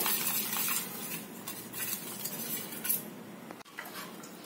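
Gram flour being whisked into buttermilk until every lump dissolves, a steady run of close metal-on-bowl scraping and clinking with brief pauses, no voices.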